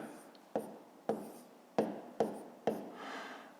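A pen writes on paper while solving a fifth-grade math exercise, making five sharp taps, each followed by a short scratching stroke. The sounds are close and quiet, with no talking.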